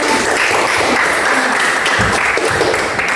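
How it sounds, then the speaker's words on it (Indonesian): Dense, loud audience applause fills the whole stretch at a church gathering on forgiveness, steady and sustained with no pauses. "Berikan tepuk tangan kepada"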